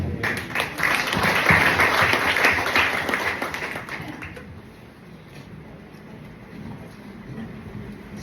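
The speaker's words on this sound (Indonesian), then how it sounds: "Sekali lagi kita kasih tepuk tangan yang terbaik untuk Tuhan." A church congregation bursts into warm, sustained applause that swells for about four seconds, then thins into scattered clapping and room murmur as it fades.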